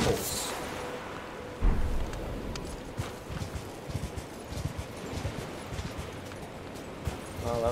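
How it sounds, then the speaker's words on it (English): Horse hooves gallop across the ground in the video game Elden Ring, a steady rapid clip-clop rhythm running throughout, with a heavier thump early on and faint game sounds underneath. "Sadly, I have an unfair advantage. It's called a horse."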